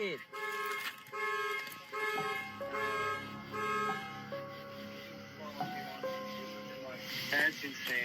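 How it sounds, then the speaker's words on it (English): A car alarm blares through its cycling electronic tones, loud and steady, with a voice speaking over it partway through. "Was that you that just turned on the alarm?"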